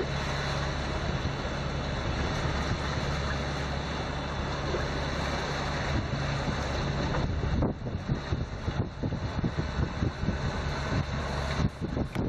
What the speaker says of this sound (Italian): A metà traversata sembra che il vento si sia rinforzato